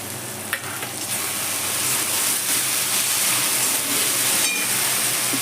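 Chopped tomatoes sautéing in a pan over ginger-garlic paste for muri ghonto, a steady close sizzle and hiss with a sharp clatter near the start, continuous and alone.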